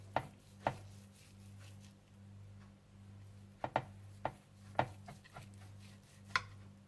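A knife slices through a cooked beef roast on a board, producing soft, irregular thuds and clicks spaced a second or so apart over a steady low hum, with no voices.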